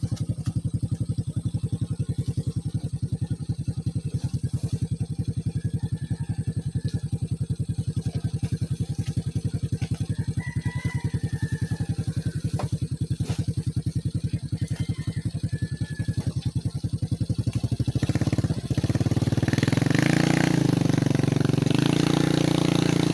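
A habal-habal motorcycle taxi's engine runs steadily and loudly with a constant rumbling drone, then revs up louder near the end; no one speaks.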